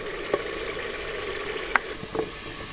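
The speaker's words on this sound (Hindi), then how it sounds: "माशाल्लाह से चिकन हमारा भून चुका है।" Chicken fries in spiced masala with separated ghee for Kashmiri daal chawal, a low continuous sizzle broken by a few light clicks and scrapes of a spoon against the pan.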